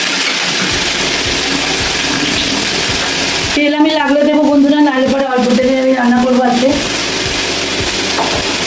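Potato and papaya pieces fry in a pan with nigella seeds and green chilli, giving a continuous close sizzle with stirring scrapes. For a few seconds in the middle, a voice talks over it.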